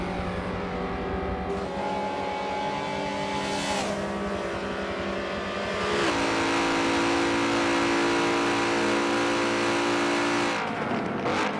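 GS race cars lapping Daytona in a Michelin Pilot Challenge round, loud engines revving and passing close with rising and falling pitch, several cars in succession with no talk.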